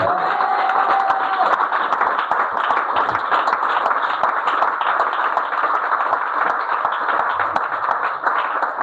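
A church congregation claps and cheers loudly and steadily for the Lord during a sermon, a dense continuous wash of applause with shouts mixed in.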